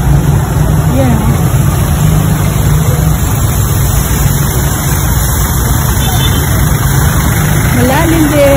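A motorcycle engine runs steadily nearby on a flooded city street, its low rumble continuous throughout while people talk over it.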